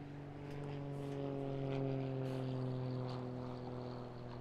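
RAF aircraft flying a high-energy aerobatic display at a seaside airshow, a steady propeller engine drone with clear harmonics that swells and eases as it loops overhead, no voices.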